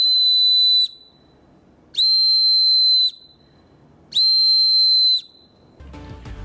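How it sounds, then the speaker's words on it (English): Three long, shrill whistle blasts, each about a second, separated by short pauses, loud and close. "Whistles provide a very loud sound that requires little blowing effort."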